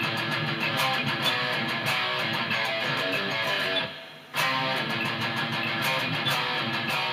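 Distorted electric guitar playing a riff, loud chugging double hits that stop briefly for a rest near the middle before the riff starts again, with no voice over it.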